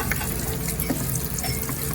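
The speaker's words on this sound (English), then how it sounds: "Into the oil. You can hear the sizzle." Hot oil sizzles and crackles steadily as crab cakes fry, a dense hiss with small pops throughout.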